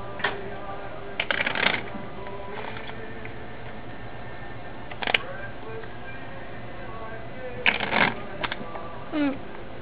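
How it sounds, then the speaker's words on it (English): Playing cards riffle and snap in short bursts, a few separate shuffles spaced apart, close up with quiet stretches between. "go ahead and shuffle the cards up for me as many times as you want"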